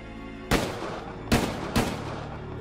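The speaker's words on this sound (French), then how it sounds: "À l'extérieur, il est abattu de 3 coups de feu." Three loud, sharp gunshots ring out close by, spaced unevenly over a couple of seconds, each followed by a reverberant decay over a low steady background; no one speaks.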